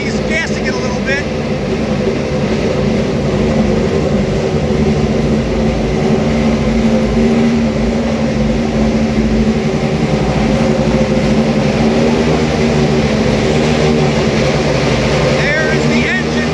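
Acura GTP prototype race car in the Daytona paddock at the 24 Hours of Daytona, its engine idling loud and steady with small blips of throttle, a continuous close-up mechanical roar filling the whole stretch.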